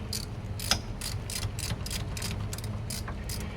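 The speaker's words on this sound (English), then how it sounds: "to get this lower bracket off, we got a 1/2 inch socket, and we're just gonna take these 3 bolts off" A ratchet with a 1/2 inch socket clicks rapidly while backing out bolts on a Volvo DPSM outdrive lower bracket, a steady series of sharp pawl ticks close by over a low background hum.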